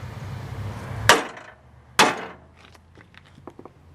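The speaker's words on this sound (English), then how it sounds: "A little love tap with a BFH." A big hammer taps a part on a Cub Cadet mower deck: two sharp, loud metallic blows about a second apart, followed by faint light clatter.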